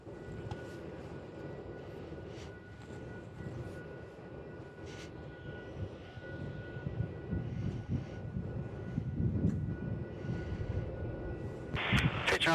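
A Fiji Airways Boeing 737 Max airliner lines up on the runway at Melbourne Airport, giving a faint, distant, steady engine rumble with murmuring voices over it.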